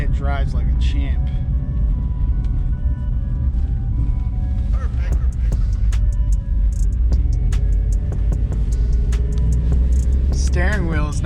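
A budget Dodge Durango off-road truck drives along with a loud, constant engine and road rumble close by, while people talk and brief squeaky tones rise over it.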